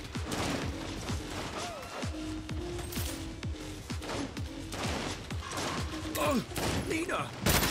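Dense gunfire in the video game Saints Row (2022 reboot), rapid rhythmic shots rattling continuously and loudly from start to finish, with shell-like metallic pings and brief whistles mixed in.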